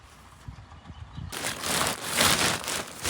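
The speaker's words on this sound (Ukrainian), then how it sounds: "Тільки згадав за дощик і що? Правильно. Він же тут як тут." Rain arrives over an open field where potatoes are grown: faint scattered drops and soft taps at first, then an abrupt swell into a loud, continuous rushing patter that stays steady to the end.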